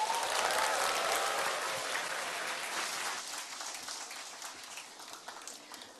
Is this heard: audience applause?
yes